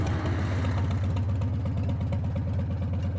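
A modified Farmall M tractor engine running steadily outdoors in the cold, a loud close low chugging idle with an even, rapid firing rhythm and no talking.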